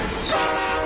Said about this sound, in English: start the train with a 7-speed remote control